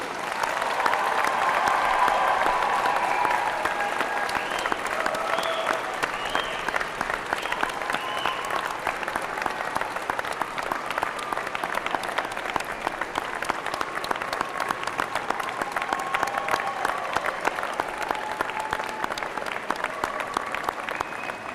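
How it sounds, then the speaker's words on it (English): Sustained applause from a large audience at a university spring convocation ceremony, honoring the graduating class with steady, dense clapping that fills the hall from start to finish without a break. "I ask your friends and family to join me in applauding the graduating class of June 2003"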